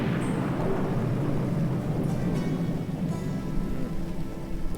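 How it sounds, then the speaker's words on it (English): Rain and thunderstorm ambience in the video game Dust: An Elysian Tail, a loud continuous rumbling wash with low thunder-like roll and steady rain hiss throughout. "It's raining. Ominous thunderstorms."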